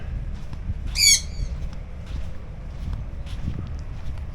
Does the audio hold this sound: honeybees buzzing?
no